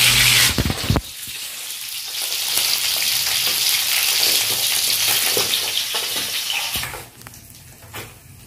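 Milkfish sizzles and spatters in hot oil in a pan, a loud, dense frying hiss that starts with a burst, holds steady for several seconds with occasional pops, then tapers off near the end.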